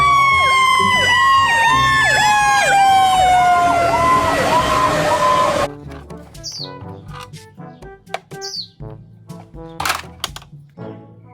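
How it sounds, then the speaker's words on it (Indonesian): A toy fire truck's electronic siren wails loudly in repeated rising-falling sweeps for about five seconds, then cuts off, giving way to scattered clicks, clacks and brief chirpy toy sounds. "Ini ada mobil pemadam kebakaran teman-teman."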